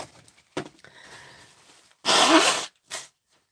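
A person in a craft room sneezes loudly: a short sniff, then one explosive burst, followed by a brief second gasp or exhale, close to the microphone in an otherwise quiet room.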